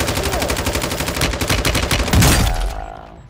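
Rapid automatic gunfire in a video game, loud and close with a fast regular rhythm, then a heavier burst and a fade to near silence at the end.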